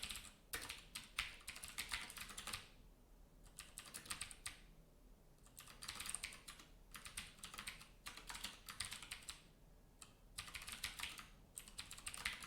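Fast typing on a computer keyboard, bursts of quick close clicks and clacks separated by short pauses, quiet and with no talking.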